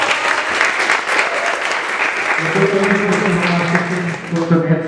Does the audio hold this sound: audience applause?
yes